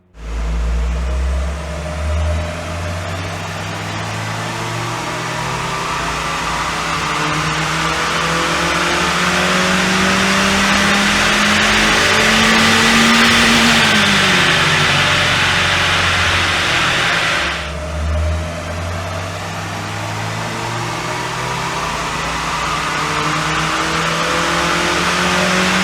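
A stock NC Mazda MX-5 engine on a dyno climbs steadily through a long, loud rev, then drops back abruptly and idles, roaring continuously up close.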